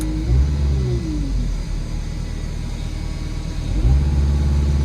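A digger's diesel engine, one with a throttle voltage fault, idles at a steady rumble, rises and falls in pitch as the throttle dial is turned, then revs up again near the end, close and steady.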